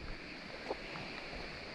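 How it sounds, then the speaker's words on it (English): A waterfall, unseen but close along a hiking path, gives off a steady broadband rush of running water with faint wind buffeting. There is one small bump partway through. "I can hear the water."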